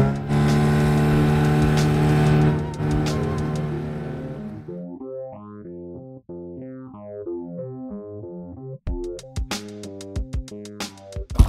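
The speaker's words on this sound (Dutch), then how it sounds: "Dus de motor is weer aan zoals je hoort." A boat's motor runs on a summer deadbait fishing trip in the Netherlands, a steady droning hum at first that turns choppy and warbling partway through.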